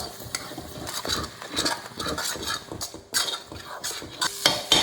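Beaten eggs, four of them with salt, being stirred briskly in a bowl, giving a rapid scraping, clinking rhythm of utensil against the dish, close and fairly loud with no talking.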